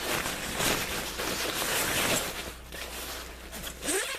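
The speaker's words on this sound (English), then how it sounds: "with all these zippers." Zippers being worked on a Russian Bear UP 2 mini tent: a continuous close-up rustling and rasping of nylon fabric and zipper teeth, with several longer pulls running steadily for a few seconds.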